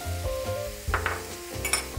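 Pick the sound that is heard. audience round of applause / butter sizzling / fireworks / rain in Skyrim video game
butter sizzling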